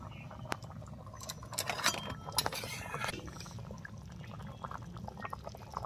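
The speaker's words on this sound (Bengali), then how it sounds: "তো আমি এবার ঢাকনাটা খুলছি।" Clinking metal and glassy knocks as a lid comes off a cooking pot of tangra fish curry with taro and bottle gourd, a few sharp clanks over a steady low background simmer, with faint voice traces.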